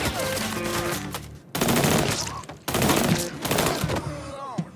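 Rapid automatic gunfire from the Mafia III Definitive Edition video game rattles loudly in three close bursts, with brief gaps between them.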